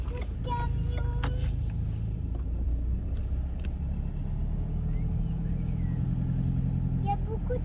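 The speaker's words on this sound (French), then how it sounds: "Il y a beaucoup de camions." Heavy trucks roll in to a truck festival on the Atlantic coast, a steady deep engine rumble filling the whole stretch with faint murmuring voices beneath it.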